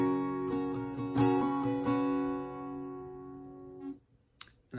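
An acoustic guitar strums a short phrase from the intro of a song, with several bright strums over ringing chords that decay into near silence, then one more brief stroke at the end.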